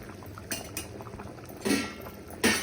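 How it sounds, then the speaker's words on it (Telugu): Biryani is stirred in a pot after lemon is squeezed over it. Metal scrapes and clinks in a few sharp, separate strokes over a faint simmering background, with no talk. "పిండుకొని ఒకసారి కలిదిప్పుకోవాలన్నమాట"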